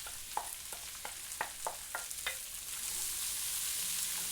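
Onions sweat in a pan with garlic, ginger and cumin for smoked eggplant bharta, giving about eight sharp stirring scrapes at first, then a steady close sizzle that builds and continues alone.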